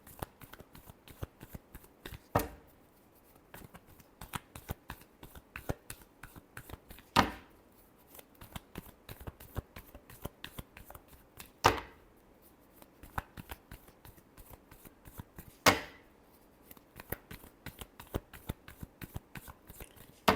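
Tarot cards being shuffled up close, a long run of quick crisp riffles and flicks in a steady rhythm, broken every few seconds by a sharper slap as the deck is squared.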